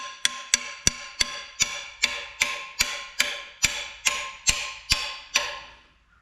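Sharp metallic taps on a hydraulic unit, about fourteen evenly spaced strikes in a steady rhythm, each ringing briefly before the next, close and clear with no talk.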